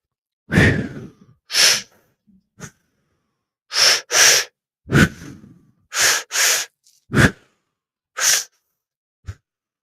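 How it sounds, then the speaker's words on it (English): Deep pranayama breathing during a guided breathing exercise: a series of forceful breaths, some paired, arriving in an uneven rhythm with short pauses between them, close and fairly loud, with no talking. "let's pick up with a pranayama breath at this point, just for a few more moments"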